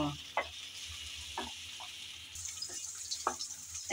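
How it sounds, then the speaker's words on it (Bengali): Chopped garlic and ginger fry in a pan for a kochur loti dish with kasundi, a quiet steady sizzle broken by a few soft scrapes of stirring, with no voices. "আদা কুচি আর রসুন কুচি হালকা করে নেড়েচেড়ে ভেজে নেব।"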